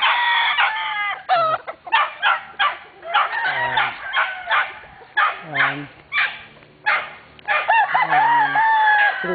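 Several gamecock roosters crow in repeated, overlapping calls on a farm, loud and close, with someone speaking briefly among them.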